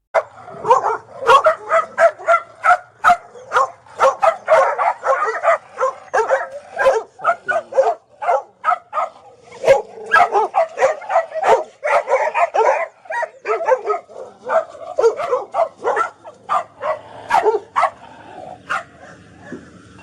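Many dogs kept in wire cages stacked two or three high bark, yip and whimper together in a dense, continuous chorus of overlapping sharp barks, loud and close throughout with no talking.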